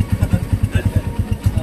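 A motorcycle engine putters close by in rapid, even low thumps, a brief burst of steady pulsing as the bikes pass.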